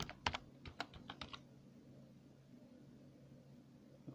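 Quick bursts of keystrokes on a computer keyboard entering a search term into a WordPress plugin field, a short run of clicks near the start followed by quiet room hum.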